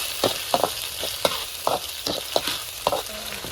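Canned fish chili paste being stir-fried in a pan, a soft continuous sizzle broken by repeated scraping strokes of the spatula at an irregular rhythm, close and clear with no talking.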